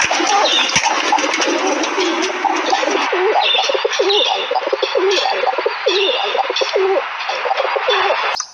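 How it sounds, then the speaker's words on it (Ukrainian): Pigeons coo in repeated soft, throaty rolling phrases, several overlapping calls close by over a steady background hiss, with no voices. "Голуби."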